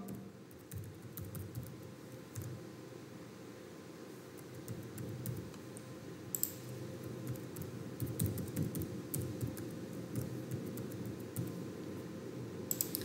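A password is being typed on a computer keyboard, with soft, quick key taps in irregular bursts over a low background hum, close and fairly quiet, with no talking.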